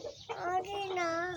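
Hens in a backyard chicken coop give a drawn-out, rising cluck, close and clear for a moment, with a voice nearby.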